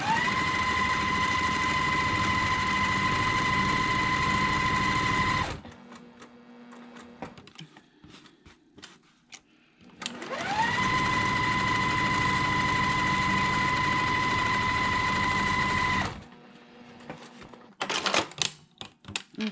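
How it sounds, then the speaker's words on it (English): A sewing machine stitches a quilt block in two long, steady runs of about five seconds each, its motor whirring with a fast, even needle rhythm. Quiet handling noises fill the gap between the runs, and some faint clicks follow the second run. "I'm going to sew on each side of that line"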